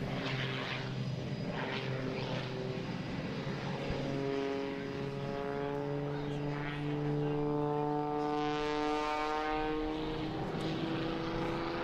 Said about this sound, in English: you will see the precision, the power that is behind Kevin Coleman and the Extra 300 Red Bull